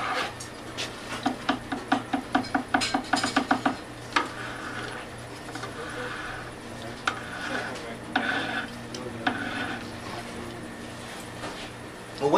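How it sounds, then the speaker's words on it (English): Stir stick scrapes and knocks against a pail of water-based cement, with a quick run of rhythmic taps followed by slower scraping strokes, close and moderately loud, with a voice talking over it. "remove the cover and stir with a stir stick to make sure everything's mixed up well"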